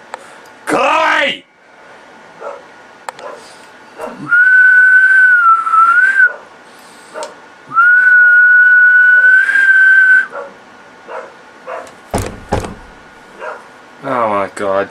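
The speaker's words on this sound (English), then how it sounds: "Excuse me about the whistling" Someone whistles two long, steady sustained notes, loud and close, with a few sharp knocks and brief vocal sounds at the beginning and end.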